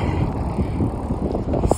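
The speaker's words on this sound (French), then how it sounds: "avec le vent de face," A strong headwind buffets the microphone while cycling along a canal, a continuous low rumbling gust close up with no voices.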